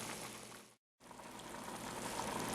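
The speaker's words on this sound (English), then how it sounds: "I'm retaining just a gentle boil." Pot of water kept at a gentle boil for a speckled trout V8 curry ramen, a steady dense bubbling hiss broken by a brief silent gap, close and even throughout.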